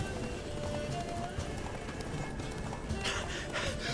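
Roach, Geralt's horse in The Witcher 3, gallops in a steady run, hoofbeats rolling continuously over a dense bed of game ambience with no break.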